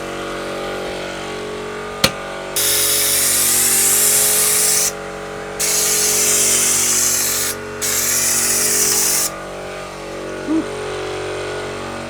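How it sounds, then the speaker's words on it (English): A paint spray gun fires in three long bursts of loud, close, airy hissing separated by short pauses, after a sharp click and before a brief faint squeak; no talking. "I'm hoping I can thin this out just a little bit, just make it spray better"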